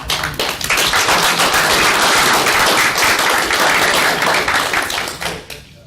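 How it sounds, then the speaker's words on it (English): A meeting room at a Board of Governors session fills with a round of applause: dense, sustained clapping from many hands that swells quickly, holds, then tapers off near the end. "I think it's worth a round of applause."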